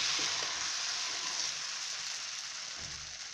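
Wheat dosa batter sizzles on a hot non-stick dosa griddle, a steady, bright frying hiss that stays loud and even throughout, with a few soft low knocks near the end.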